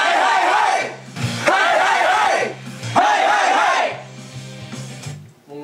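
Band members shout together in a recording session, trying to sound like a crowd of kids, in about three loud, ragged group yells separated by short pauses.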